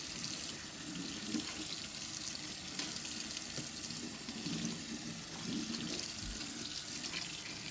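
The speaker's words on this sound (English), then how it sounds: "So you'll give your sink a rinse with some hot water." Hot water runs steadily from a kitchen tap into a sink, a continuous close hiss and splash of water rinsing the basin, with no voices.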